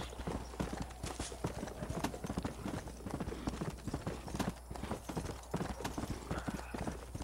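A horse's hooves clip-clop in a steady trotting rhythm in the zombie western game Red Dead Redemption: Undead Nightmare. The hoofbeats are close and fairly quiet, with no talk over them.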